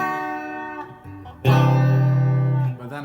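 Clean electric guitar chords are strummed and left to ring, a softer chord first, then a louder one that sustains and fades; no voices.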